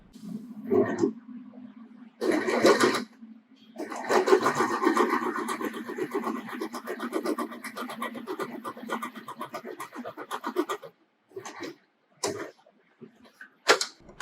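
A sewing machine stitches a plain seam in fabric, a close mechanical whirring run with a steady hum, broken by pauses and short bursts of stitching toward the end.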